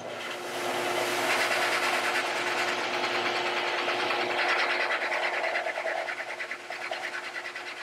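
A tool cuts a radius into a guitar bridge saddle during a neck reset and refret, giving a continuous close rasping, buzzing whir that holds steady for several seconds before easing slightly.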